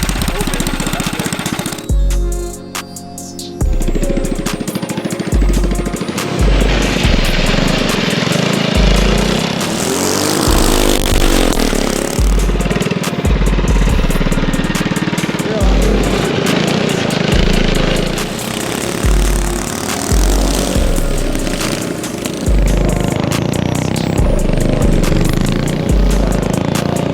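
A four-rotor engine in a Toyota Supra runs loud and close, giving a harsh, rapid, buzzing drone with rhythmic low pulses. Revs rise and fall briefly early on, then it holds steady and aggressive, with no voices.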